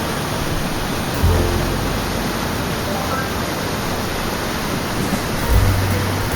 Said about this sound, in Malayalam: രണ്ട് സൈഡിലേക്കായിട്ട് ഇവിടുന്ന് വെള്ളം ഒഴുകുവാണ്